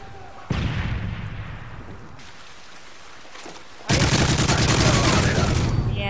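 Dense bursts of rapid gunfire crackle loudly in a Capture the Flag match of a video game, with a quieter stretch in the middle before heavy firing resumes.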